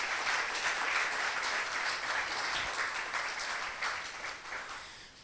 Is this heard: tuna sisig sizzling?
no